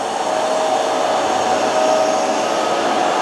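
Hoover PowerDash Advanced Pet or Bissell TurboClean carpet cleaner running a wet pass, a loud, steady motor whine and suction roar with no talk.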